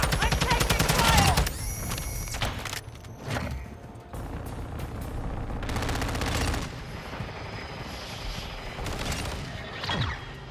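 Rapid automatic gunfire in Call of Duty Modern Warfare 2 multiplayer, loud bursts of rattling shots broken by short pauses and mechanical clatter, with in-game radio voices speaking in between.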